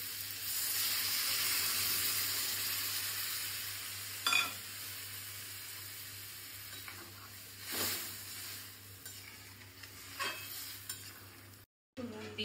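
Paneer and capsicum curry sizzling in a pan as water is added, a steady frying hiss with a few stirring scrapes and clinks, ending in a brief drop to silence.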